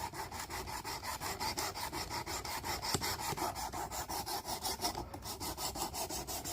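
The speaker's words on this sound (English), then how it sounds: "We'll give it a few more passes before we switch over to the finer stone." Knife blade drawn over a sharpening stone on a Work Sharp Precision Adjust sharpener, about twenty quick even rasping strokes in a steady back-and-forth rhythm, close and clear, with no speech.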